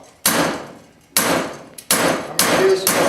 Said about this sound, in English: I'm just hammering it right next to the riding lawnmower.